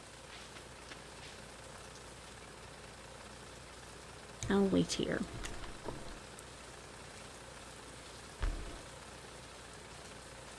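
Steady soft rain falls in a Stardew Valley game scene, a faint continuous patter running throughout, while a person talks briefly over it midway and a short knock or bump sounds near the end.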